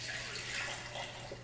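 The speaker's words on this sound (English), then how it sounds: "I'm going to take it across to the blender and pour about half into the blender" Steaming water pours steadily into a Babymoov Nutribaby blender jug, a continuous close splashing gush with no speech.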